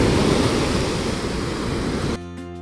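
Sea waves breaking on a beach near Chilika Lake in Odisha, a steady, loud, broadband rush of surf lasting most of the clip before cutting off abruptly near the end.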